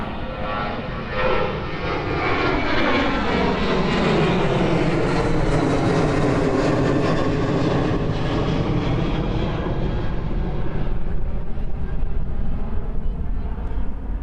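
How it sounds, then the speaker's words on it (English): A Cathay Pacific Boeing 747-8 taxiing at Miami airport, its engines swelling into a loud roar with a whine that rises then falls as it passes close, with a voice talking over part of it. "And we have Cathay 747-8. That's a flight to Houston, Texas. Continuing to taxi."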